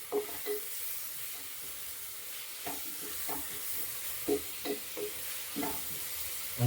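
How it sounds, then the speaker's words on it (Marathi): Ginger garlic paste frying in a pan, a soft steady sizzle with intermittent scraping knocks as it is stirred, no talking. "तर आता याच्यामध्ये टाकूया अद्रक लसूणची पेस्ट."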